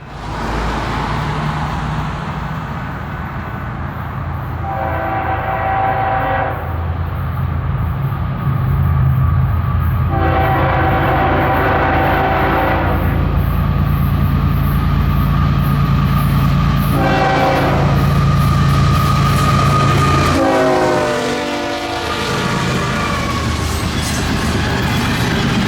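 A Florida East Coast Railway freight train, Train 105, passing through a park, with a loud steady rumble of rolling cars and several long horn blasts sounding over it.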